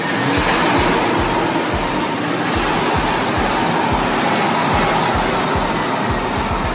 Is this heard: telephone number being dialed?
no